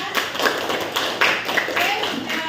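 A classroom of vocational high school students claps for a presenting group, a steady patter of many hands close by, with voices mixed in underneath.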